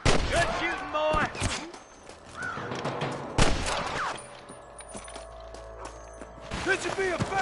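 Gunfire from snipers in the video game Red Dead Redemption, with loud sharp shots and ricochets separated by short lulls, while voices shout over the shooting.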